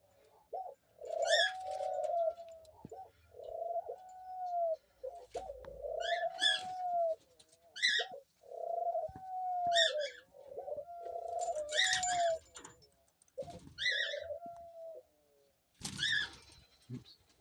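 Two pet doves coo close by in a repeated series of soft, drawn-out calls roughly every two seconds, interspersed with light rustles and a few brief sharper sounds.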